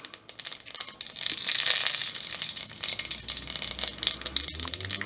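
Mustard seeds and dried red chilli frying in hot oil for pepper mutton gravy, a steady close crackling sizzle with dense popping that swells through the middle and holds to the end, no voices.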